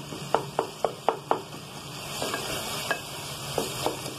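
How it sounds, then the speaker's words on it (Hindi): Tomatoes frying in a pan are stirred and mashed for chana dal, a nearby sizzle broken by a quick run of five sharp spatula knocks, then slower, softer scrapes and taps, with no voices. "टमाटरों को बहुत अच्छे से आपने घोट लेना है"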